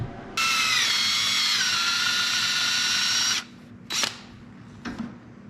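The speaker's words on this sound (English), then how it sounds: "I'm gonna drill and easy out this one out just like I did the last one" A power drill bores into a broken exhaust bolt stuck in an LS cylinder head, giving a close, high whine for about three seconds, then two short bursts after it stops.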